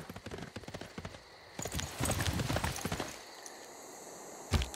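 Horse hooves clip-clopping for a horseman unit in Civilization VI, a quick rhythmic series of close hoofbeats with a snort, followed by a burst of galloping and a final sharp knock.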